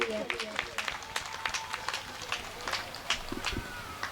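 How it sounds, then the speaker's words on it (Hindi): Audience clapping for the organizing committee at a Hindi poetry gathering, a patchy, moderately close burst of hand claps. "एक बार जोरदार तालियां बजाइए आयोजन समिति के लिए"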